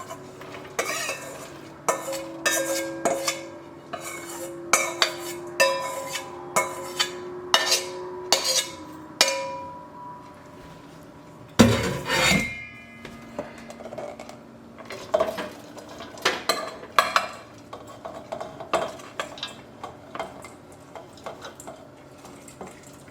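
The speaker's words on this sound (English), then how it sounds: "Now I'm going to add my jalapeno slices in." Jalapeno slices go into a simmering pot, with a run of sharp metallic clinks and scrapes of a utensil against the pot, one louder clattering burst midway, then softer stirring knocks.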